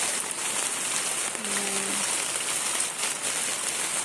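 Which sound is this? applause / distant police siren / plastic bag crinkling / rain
rain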